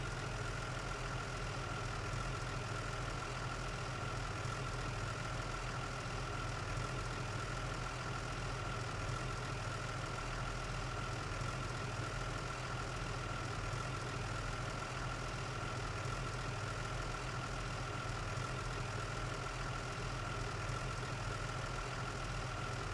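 A customized fire engine in a video game idles steadily, a continuous low engine drone with a faint constant whine, unbroken and even throughout, with no talk over it.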